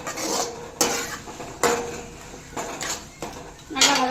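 Onions and tomatoes sauté in a pan while a utensil clanks and scrapes against the metal in a few distinct knocks over a soft background sizzle, heard up close.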